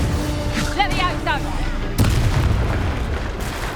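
Confringo explosion spell in Hogwarts Legacy, with a sharp, loud blast about halfway through followed by a rumbling tail, preceded by chirpy magical tones and a voice.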